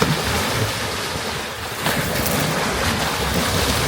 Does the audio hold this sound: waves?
yes